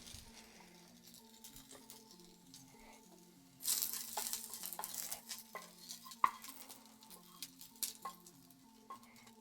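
Onions fry in a pot and are stirred, starting as a faint sizzle before louder scraping and clattering stir strokes with crackles take over partway through, close and irregular.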